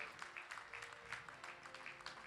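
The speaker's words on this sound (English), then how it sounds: "Please give them a big round of applause." Audience applause at an industry awards ceremony for the space sector, a faint, steady patter of many hands clapping at a distance.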